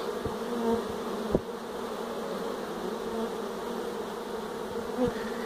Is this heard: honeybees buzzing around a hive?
yes